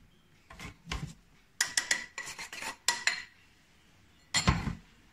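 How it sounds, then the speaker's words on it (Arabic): A spoon scrapes and clinks against a bowl while sugar and milk powder are stirred together, in a few short separate bursts and one steadier stretch of strokes, fairly close and alone with no talk. "كنحركو هادشي مزيان حتى كينسجمو مع بعضياتهم"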